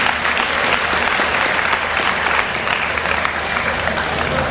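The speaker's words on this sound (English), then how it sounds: "Give your parents another round of applause." Sustained audience applause at a 1990 theater and poetry awards ceremony, dense and even clapping from a large crowd filling the whole stretch, loud and uninterrupted.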